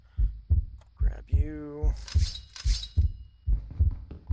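A steady heartbeat from the Minecraft Slashblade and Sorcery game thumps at about two beats per second. The deep, even pulses continue under a short spoken phrase and some game sounds.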